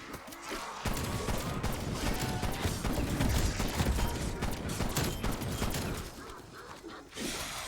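A special weapon fires in Call of Duty Cold War Zombies, sending out a sustained burst of loud, dense gunfire with mechanical clatter. It runs for several seconds before cutting off near the end.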